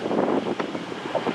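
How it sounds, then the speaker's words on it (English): Strong wind of about 22 knots buffets a sailboat on open water, a loud, rough rumble of gusts across the microphone with a faint wash of waves underneath. "it's 22 knots of wind right now"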